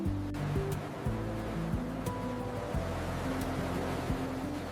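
Ocean waves washing in at a beach, a soft steady surf under low tonal sounds that sound like background music, fairly faint, with no talk.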